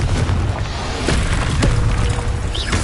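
A Confringo blasting spell detonates in Hogwarts Legacy, a deep booming explosion with rumbling low end and brief crackling debris, loud and close, no speech.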